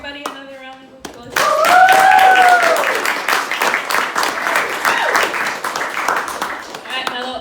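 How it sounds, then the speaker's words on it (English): A showcase audience applauds with loud, dense clapping that rises sharply after a second of quieter sound and holds steady to the end, with a brief whistle-like tone near the start and some cheering mixed in. "can we give everybody another round of applause?"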